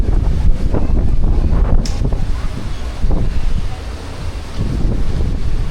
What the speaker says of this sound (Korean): 내일은 바람이 잠잠했으면 좋겠다